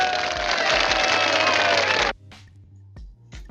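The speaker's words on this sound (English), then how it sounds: "Everybody, a round of applause for the manager." A burst of clapping and cheering from a small group in a home kitchen during a coconut cake baking session, loud and dense for about two seconds before cutting off to quiet with a few faint knocks.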